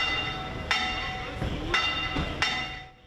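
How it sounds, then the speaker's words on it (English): A church bell rings at the Syriac Orthodox Church of Mor Ephraim in Turkey for a papal arrival, sounding four clear strikes spaced unevenly, each ringing on with a long metallic decay. "The bell rings for the arrival of the Pope"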